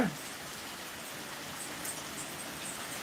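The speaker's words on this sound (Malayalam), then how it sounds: "മഴ എങ്ങനെയുണ്ട് എങ്ങനെയുണ്ടെന്ന് പറ മഴ" Steady rain falling during a monsoon downpour, a soft continuous hiss of drops spread evenly across the whole stretch with no voices over it.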